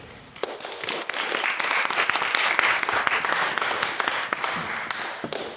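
A debating-chamber audience applauds a maiden speaker, a dense burst of clapping that holds steady for several seconds with a few sharper claps standing out.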